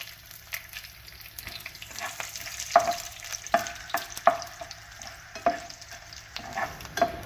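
Chana dal, urad dal and dried red chillies frying in oil for a cabbage curry, a steady sizzle with repeated clinks and scrapes of a stirring spoon against the pan, close, with no talk.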